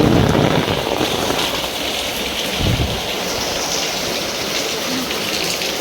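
Heavy rain pours down over Dungi village as floodwater flows in, making a dense, continuous roar of downpour that stays loud and steady the whole time with a few low rumbles.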